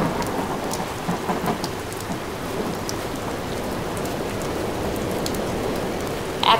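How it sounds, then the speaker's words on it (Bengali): Heavy rain pours steadily in a strong wind, a dense hissing wash with a low rumbling undertone like thunder, continuous and close with no voices. "জোরে জোরে বাতাস শুরু হলো, আর সেই সাথে শুরু হলো বৃষ্টি।"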